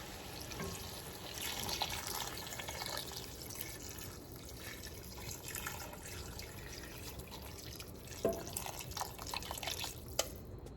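Water running and splashing into a cooking pot, a continuous trickling gush with a few sharper drips and clinks.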